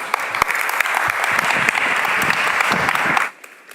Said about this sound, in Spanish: muchísimas gracias por este aplauso